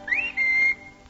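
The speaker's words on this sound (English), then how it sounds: "Ain't no use whistling around here, Mr. Pete." A man whistles in a radio drama, a single clear two-part call: a short rising note followed by a longer held tone, close and alone with no talk.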